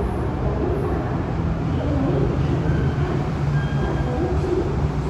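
An MRT Kajang Line metro train in Malaysia rumbles steadily throughout, a continuous loud low roar with faint high squeal of wheels, heard from inside or very near.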